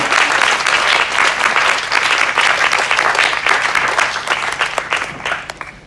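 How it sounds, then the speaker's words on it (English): An audience at a Sheffield Doc/Fest film-and-talk session applauds Greg Thorne, a loud, dense wash of many hands clapping steadily throughout, easing slightly toward the end. "Round of applause for Greg Thorne."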